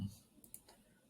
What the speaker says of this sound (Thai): เอาเมาส์มาคลิกที่ ลิงก์นี้